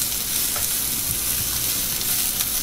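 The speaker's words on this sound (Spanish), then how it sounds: "Nada más las vamos a sofreír un poco para agregar la salsa." Onions fry in hot oil in a skillet over medium-low heat, giving a dense, continuous crackling sizzle, close and even, with faint scraping stirs.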